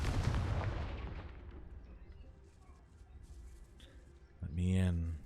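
A Confringo fire spell cast in the Hogwarts Legacy video game, a loud burst that fades into a long decaying rumble, with a short voice near the end.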